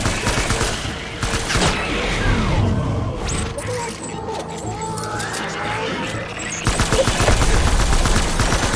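Dense gunfire in Death Stranding, rapid machine-gun bursts and crackling shots that run almost continuously, loud and close, with a heavier burst near the end and voices talking beneath.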